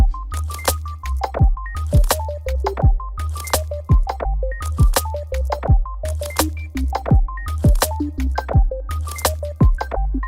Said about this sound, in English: What's really killing me is the fucking clicks on that kick.